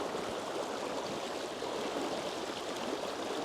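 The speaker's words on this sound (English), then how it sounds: "I have raging water out there in the center" A river swollen with snowmelt runoff rushes through its center current, a dense, steady roar of churning water close by with no breaks and no voices.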